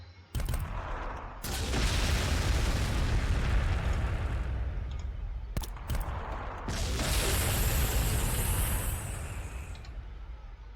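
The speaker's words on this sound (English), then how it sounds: "I do have frag missiles here we can do some good damage with" Frag missiles in Warhammer 40,000: Sanctus Reach detonate in loud, sustained rumbling blasts, with sharp cracks opening each of two long waves of explosions.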